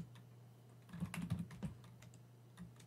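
A short flurry of computer keyboard keystrokes, several quick clicks in a cluster near the middle and one or two isolated taps after, faint against a low steady hum with no talk.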